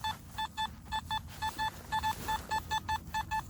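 A Minelab Simplex metal detector on a beach gives quick repeated target beeps in short bursts, over a faint steady background hiss.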